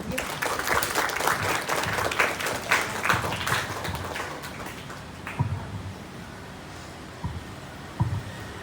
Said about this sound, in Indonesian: Beri tepuk tangan untuk Ibu Made.